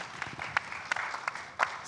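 Short burst of scattered hand claps from a small audience applauding Pak Indra at a banking super-app panel discussion, a handful of distinct claps over a soft background, fairly faint.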